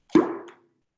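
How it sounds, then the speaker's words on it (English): A pop gun made from a cork in a PVC tube gives a single hollow, resonant plop, sharp at onset and then ringing briefly before fading out, heard alone and close with silence after. "invented what's called the pop gun"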